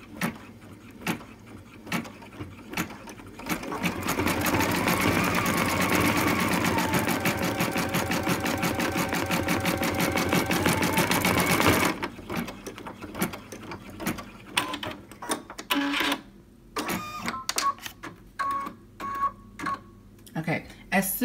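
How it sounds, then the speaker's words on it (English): An embroidery machine stitches part of a design in the hoop, giving a steady fast mechanical whir and needle chatter for several seconds before stopping, with a person speaking and handling clicks before and after. "I'm going to go ahead and stitch the eye, and then I'm going to stop my machine"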